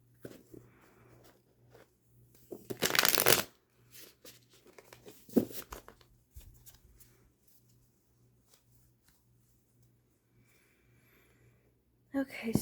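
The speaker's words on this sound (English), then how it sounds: "me shuffle this one more time." A short, crisp burst of cards being riffled and shuffled, surrounded by quieter rustling and soft talk.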